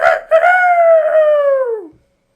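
A voice imitates a rooster's crow in one long, loud, close cock-a-doodle-doo that starts with a short clipped note, holds a sustained tone, then slides downward and stops abruptly.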